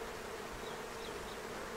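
Honeybees buzzing inside an opened beehive, a steady dense hum that stays even and close throughout, with no voices.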